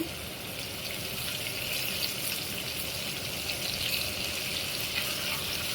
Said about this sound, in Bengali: এখন মাছ দিব, পুরো মাছ দিয়ে দিলাম